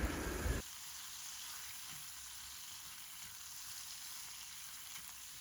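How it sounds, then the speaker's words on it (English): Minced garlic and ginger sizzle quietly in a pan while being stirred, a soft, even crackle after a brief louder burst at the start, with occasional faint clicks. "add your minced garlic and the ginger and just stir it for a while"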